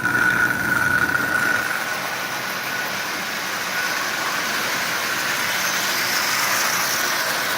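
A Marx 666 toy train locomotive, built from parts with a pre-war single-reduction motor, runs with a continuous close, buzzing whir that holds steady throughout.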